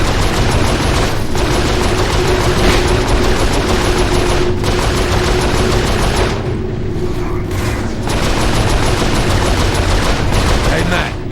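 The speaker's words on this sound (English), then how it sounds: "We need to man the turret!" Turret fire aimed at ships in Saints Row IV: dense, continuous loud bursts of rapid gunfire and booms with mechanical rumble, broken by brief lulls, and voices underneath.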